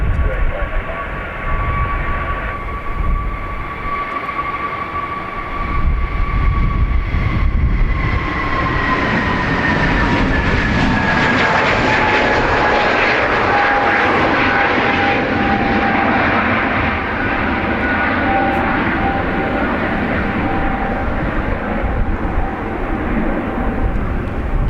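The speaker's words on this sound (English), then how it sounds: "that 321 was heading to London Heathrow" An Airbus A321 jet takes off from Dublin bound for London Heathrow, producing a loud sustained engine roar with a whining tone that slowly falls in pitch as it powers away.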